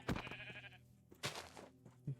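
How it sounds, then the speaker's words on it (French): Minecraft sheep bleats several times in quick succession as it is struck with a pickaxe, close and clear, with brief game hit sounds between the calls. "J'ai pété un mouton avec une pioche."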